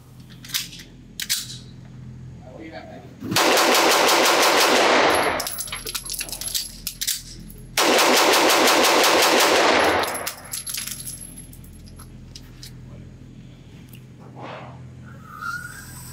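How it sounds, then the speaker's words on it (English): Two long bursts of rapid pistol fire from a Daniel Defense H9, each a fast loud string of shots lasting about two to three seconds, separated by a brief pause for a magazine change, at an outdoor range. "let's see if I can shoot this gun quickly"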